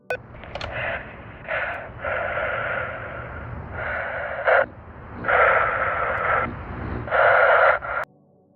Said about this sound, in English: when picking up the phone, all you would hear is heavy breathing